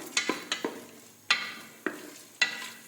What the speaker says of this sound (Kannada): ಸ್ವಲ್ಪ ಗೋಡಂಬಿ, ಇದಿಷ್ಟನ್ನು ಚೆನ್ನಾಗಿ ಫ್ರೈ ಮಾಡ್ಕೊಳ್ಳುವ.